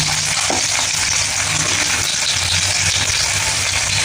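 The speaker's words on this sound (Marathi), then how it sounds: "हे टाकल्यानंतर थोडा वेळाला कडकडू द्यायचं आणि लगेच त्याच्यामध्ये जिरे आणि मोहरी टाकायची" Cumin and mustard seeds crackling and sizzling as they fry in hot oil, with a steady close hiss and dense fine popping throughout, no voices.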